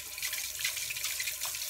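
Running water washes fresh homemade butter on a farm, a steady close splashing and trickling flow with small drips, continuous throughout.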